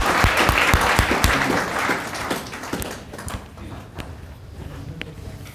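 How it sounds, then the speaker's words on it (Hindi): A crowd applauds loudly at first, the clapping thinning and fading to scattered claps over a few seconds. "जोरदार तालियों की गड़गड़ाहट के साथ में स्वागत।"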